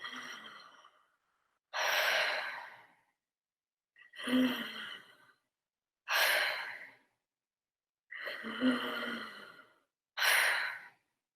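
A breathing exercise demonstration in an adult choir and voice class produces a series of long, audible breaths and sighs, each clearly separated by silence, close to the microphone.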